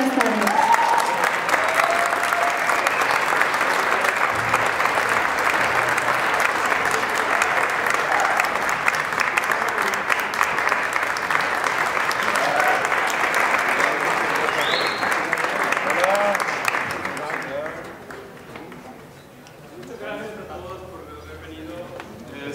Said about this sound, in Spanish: Por favor, brindémosle un muy fuerte aplauso.